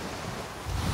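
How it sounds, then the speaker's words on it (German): Wind in Skull and Bones blowing as a soft, broadband rushing hiss that swells slightly toward the end, steady and fairly close, heard alone. "Das ist der Wind."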